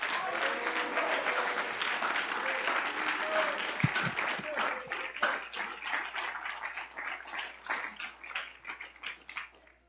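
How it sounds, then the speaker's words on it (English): A church congregation breaks into applause, dense clapping that starts under scattered voices and cheers, then thins into sparse individual claps and fades out. "let's clap here a second."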